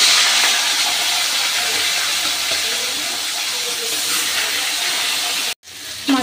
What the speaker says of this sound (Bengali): এবার কাতলা মাছের মাথাগুলো আমি ভেজে নিচ্ছি।